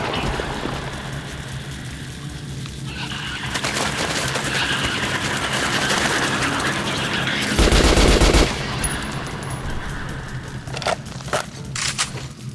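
Rapid bursts of gunfire crackle through the busy soundscape of the video game Metro Last Light, with a louder volley near the middle and sharp scattered shots toward the end.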